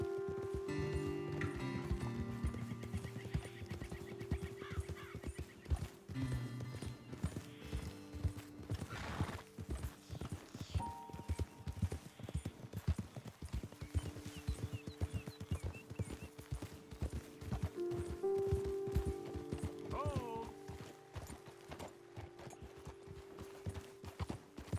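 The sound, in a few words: horse hooves clip-clop while riding, from video game Red Dead Redemption 2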